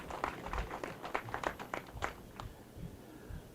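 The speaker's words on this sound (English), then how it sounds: "Please, let's give her a round of applause." An audience at a university graduation ceremony claps in a round of applause, a dense patter of hand claps that fades into a few scattered claps and room noise.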